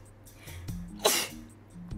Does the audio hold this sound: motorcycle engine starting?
no